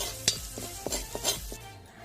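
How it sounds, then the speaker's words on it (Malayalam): Crushed ginger and garlic roasting in oil in a pan, with a soft sizzle under several close stirring scrapes and light clinks of a spoon against the pan. "നമ്മുടെ ജിഞ്ചർ ഗാർലിക്ക് ചതച്ചെടുത്തതാണ്. അപ്പോൾ അത് നമുക്ക് ഇതേപോലെ ഒന്ന് ചെറുതായിട്ട് റോസ്റ്റ് ചെയ്തെടുക്കണം."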